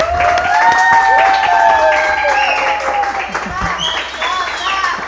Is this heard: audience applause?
yes